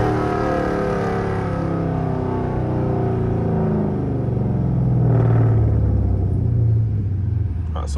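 A Dodge Charger R/T with over 400 hp rumbles low and steady from inside the cabin while driving, a deep continuous engine drone that swells slightly midway before settling again.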